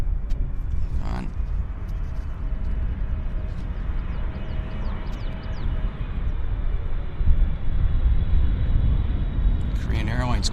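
A Korean Airlines cargo airplane arrives at Vancouver Airport, its broad engine rumble steady and building slightly toward the end, with a voice talking briefly over it.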